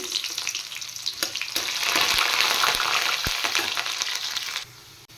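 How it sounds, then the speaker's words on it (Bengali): Onions dropped into hot oil for cheesy pasta: a loud hissing sizzle swells after the first second and holds steady before fading near the end, with a few knocks and scrapes, and no talking. "পেঁয়াজ দিয়ে দিচ্ছি তেলে"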